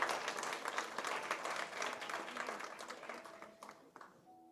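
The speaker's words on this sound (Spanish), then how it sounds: "Le damos un aplauso por esta palabra" A church congregation applauds after a psalm reading, lively clapping that gradually thins out and fades before a brief quiet tail.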